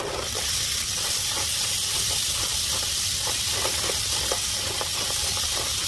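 Clams added to a pan of sizzling garlic, ginger and chili peppers, giving a steady, loud hiss and crackle that holds even throughout with no voices.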